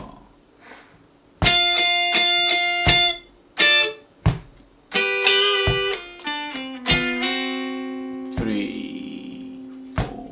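Electric guitar plays a lick: sharp choppy chords and slides with crisp stops between phrases, heard close and alone.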